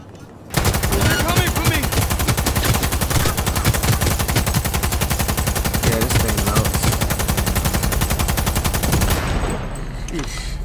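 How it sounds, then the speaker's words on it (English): The Defender light machine gun fires in Cyberpunk 2077, a loud sustained automatic burst of rapid shots lasting about nine seconds before cutting off into quieter game ambience. "I'm just shooting."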